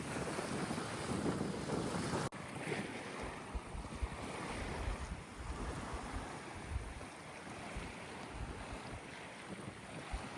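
Surf rolls in steadily at Stable Beach, a deserted horseshoe-shaped beach on Middle Caicos, with a constant wash of waves and heavy wind buffeting the microphone throughout.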